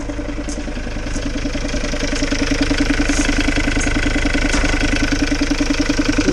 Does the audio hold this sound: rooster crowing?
no